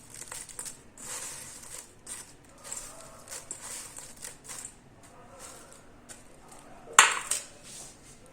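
Crispy deep-fried okra, bhindi fry, crunched close up: a series of light crackly bites and brittle crushing sounds, quiet overall, with one sharp loud crunch near the end.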